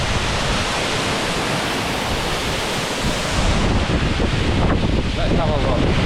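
A Scottish waterfall pours in a constant, close, full roar of rushing water, swelling slightly louder partway through and continuing without a break.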